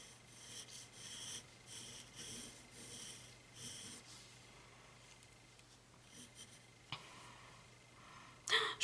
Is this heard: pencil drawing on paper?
yes